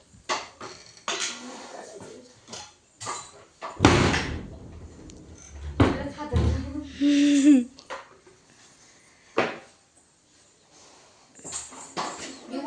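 A house door thuds shut, a loud single bang mid-clip among scattered household knocks and shuffles, with a brief whine and short vocal sounds nearby.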